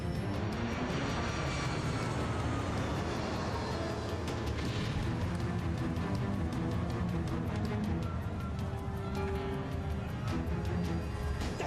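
A plane flies with its landing gear lowered, a loud, continuous engine roar and rumble with a buffeting texture that holds steady throughout.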